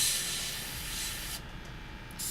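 Paint sprays onto a Bushmaster rifle, a broad close hiss that runs briefly, cuts out for a moment and then resumes.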